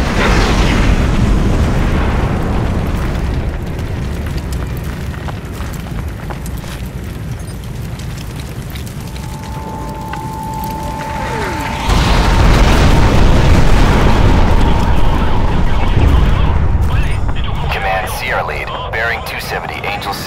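Airstrike explosions in Crysis Warhead, a sustained loud roar with jet aircraft noise, swelling into a heavier booming surge midway before fading, with radio voices speaking over the din.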